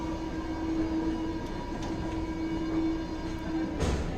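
A Mexico City subway train at Lagunilla station gives off a loud, continuous rail roar with a steady whine and occasional clanks, close and filling the platform, with no talking.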